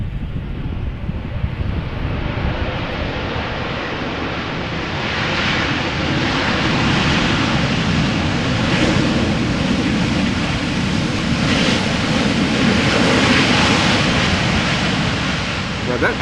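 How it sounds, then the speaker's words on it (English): Airliner applying reverse thrust just after touching down on a runway at Amsterdam Schiphol in crosswind conditions, a loud, steady, broadband roar that swells and holds for the whole stretch, with no pause. "Now that airplane has applied reverse thrust. You can clearly hear it."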